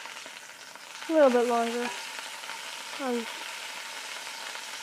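Scallops sear in a hot pan with a steady, soft sizzle that runs underneath, while a person speaks briefly over it.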